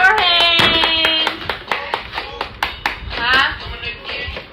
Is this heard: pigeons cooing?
no